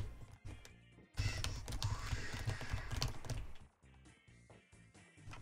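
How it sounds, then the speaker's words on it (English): Computer keyboard keys clatter in rapid bursts of presses while playing the game Marble Blast, close and moderately loud, mixed with game sounds. "you can, like, hear the sounds of my keyboard"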